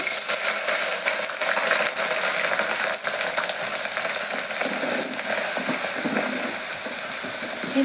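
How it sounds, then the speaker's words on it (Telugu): Coarsely pounded ginger-garlic paste frying in hot oil, a dense, even sizzle that holds steady and close throughout, fading slightly toward the end. "పచ్చివాసన పోయేంతవరకు కొద్దిగా ఫ్రై చేయాలండి అల్లం వెల్లుల్లి పేస్ట్ బాగా ఫ్రై అయింది"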